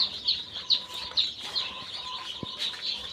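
Tiger breed chicks and hens make repeated high peeping chirps and soft clucks, close by and fairly lively, with a few low thumps between the calls.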